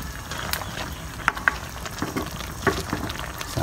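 Shrimp pan-roasting in a pan, a continuous crackling sizzle with scattered sharp pops and faint scraping, moderately quiet and without talk.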